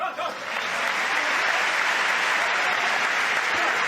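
A crowd at a World Table Tennis Championships match applauds loudly and steadily, a dense continuous wash of clapping that swells in and holds throughout.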